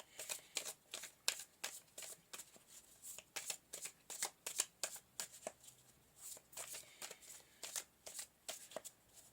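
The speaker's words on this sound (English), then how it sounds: "let's pull some more cards anyway to clarify" Tarot cards being shuffled by hand, a quick series of crisp riffling flicks and taps repeating in bursts at close range, with no voice.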